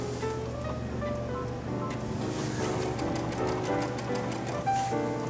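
A Brother sewing machine stitching a smocking stitch with a cording foot, giving a steady mechanical whirring hum with faint rhythmic ticking, heard close and alone.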